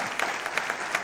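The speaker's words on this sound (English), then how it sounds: "Yes, you can clap for him." An audience at a keynote on Africa's economic resilience breaks into a brief burst of steady clapping, filling the hall for about a second.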